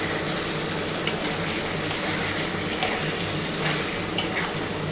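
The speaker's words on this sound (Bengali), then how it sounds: "পটল আলুটার সাথে খুব ভালো করে মশলাটা কষিয়ে নিতে হবে" Potato and pointed gourd cooking with spices in hot oil for a Bengali katla fish curry, stirred steadily with a spatula, a continuous close sizzle broken by a few sharp scrapes against the pan.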